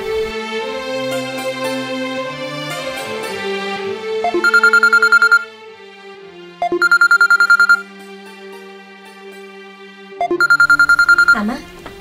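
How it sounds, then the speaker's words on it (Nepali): A phone rings in a Nepali TV serial scene, three loud, bright electronic bursts repeating with pauses between them, following a stretch of background music. "आमा आरोहीले फोन गरेको रहेछ"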